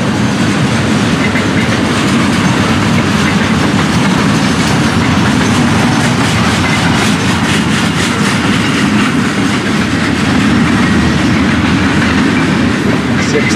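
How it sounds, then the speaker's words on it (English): A Florida East Coast freight train hauling gondolas of granite ballast rolls through Fort Pierce, a loud, continuous close-up rumble with steady clickety-clack of wheels over rail joints. "This train heading in through Fort Pierce."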